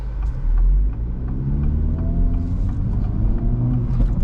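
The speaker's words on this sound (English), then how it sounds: "the exhaust sounds really good" A 2024 Acura Integra Type S with a 320-horsepower engine, front-wheel drive, cruising on a morning drive; a steady low exhaust rumble and engine drone, fairly loud and continuous, with faint light ticks above it.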